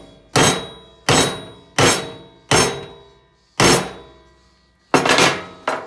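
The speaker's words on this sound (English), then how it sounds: "I'm going to get a solid blow on it, a couple solid blows with my hammer" Hammer blows on a broken exhaust bolt: six loud, sharp metallic strikes, close by, spaced about every second, the last two nearly merged, with no talking.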